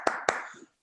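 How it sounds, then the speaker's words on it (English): Two sharp, close hand claps about a fifth of a second apart, with a brief ringing tail as a round of applause for the speakers of a virtual conference, then silence. "There's the round of applause for Jennifer and Andrew."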